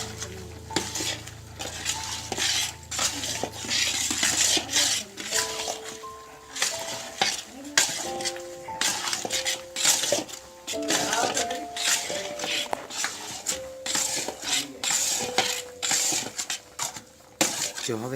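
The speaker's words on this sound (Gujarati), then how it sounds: "હવે હું આમાં માવો એડ કરી દઉં, પછી સતત પાછું હલાવવાનું" Mawa milk solids cook in a pan for an adadiya sweet, with a spatula scraping and clinking against the metal in repeated strokes over a soft sizzle, close up.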